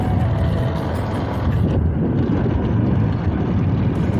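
A motorcycle on the road near Borlai, its engine making an unusual noise while riding, comes through as a loud, continuous rumbling roar mixed with heavy wind rush, with no speech.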